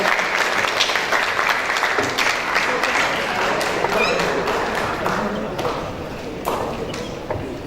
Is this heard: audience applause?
yes